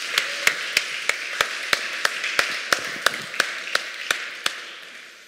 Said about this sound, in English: Let's give them a big clap, shall we?